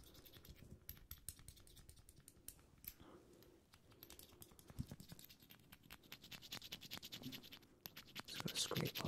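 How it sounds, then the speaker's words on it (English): Close, crisp scratching and scraping of rust off a repaired android's ears, in ASMR style, with quick irregular strokes and light ticking taps that grow busier and louder toward the end. "just got to scrape off any rust or anything from the ears as well"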